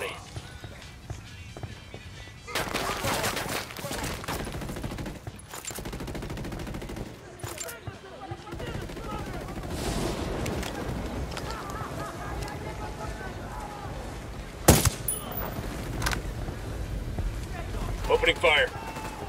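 Gunfire crackles in the open-world shooter Ghost Recon Wildlands: bursts of automatic fire and sharp shots scattered through the stretch, with a loud blast near the end, as voices talk over the fighting.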